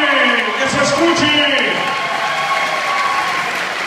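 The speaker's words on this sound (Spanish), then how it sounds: "¡un aplauso fuerte! ¡Que se escuche!" Audience applause at a live event at the Club de Leones, steady clapping from a crowd throughout with some voices and cheering mixed in.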